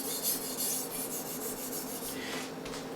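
A chef's knife is drawn across a Japanese water stone in steady, continuous rasping strokes, a close gritty scrape that keeps going with little pause.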